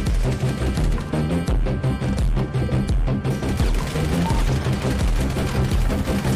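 Dense, continuous gunfire rattles through a video game roleplay turf war, overlapping bursts and rapid shots forming a loud, unbroken barrage.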